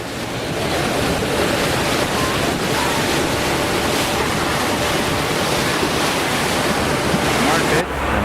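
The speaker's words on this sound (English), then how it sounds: "I took a speedboat that gave me a bone-jarring ride back to the ferryboat landing" A speedboat on the Chiang Rai River gives a steady, loud rush of engine, wind and water spray that runs continuously without pause, cutting off sharply near the end.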